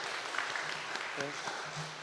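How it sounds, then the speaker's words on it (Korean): Church congregation applauding to welcome two new brothers during a Sunday service, a soft diffuse patter of clapping with a voice speaking briefly over it. "우리 박수로 우리 환영하도록 하겠습니다"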